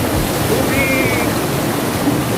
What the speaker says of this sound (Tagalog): Tubig.